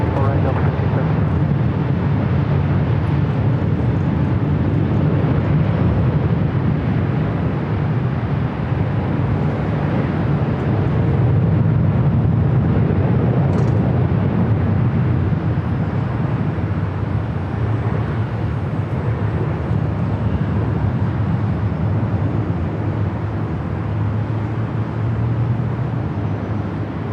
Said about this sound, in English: Emirates 216 Super taking off to Dubai on the A380.